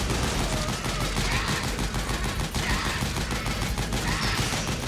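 Gunfire in Metal Gear Solid 4: Guns of the Patriots, a dense, continuous fusillade of loud rapid shots and automatic bursts filling the whole stretch with no letup.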